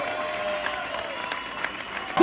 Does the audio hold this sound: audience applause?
yes